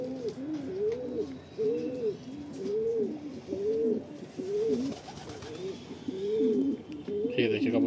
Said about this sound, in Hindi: ये देखिए कबूतर हमारे नीचे आ रहे धीरे धीरे।